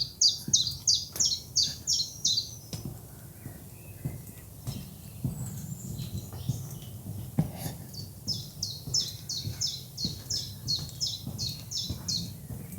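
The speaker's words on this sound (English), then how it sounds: "The birds are doing their thing, which you can probably hear." Birds chirp and sing outdoors, with quick repeated trills at the start and end and softer tweets scattered between.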